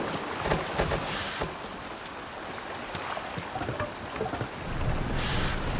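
Boat sailing on open water in the game Assassin's Creed Valhalla, off Ireland; steady wash of water and wind with gentle surging swells, continuous and moderately loud, no talking.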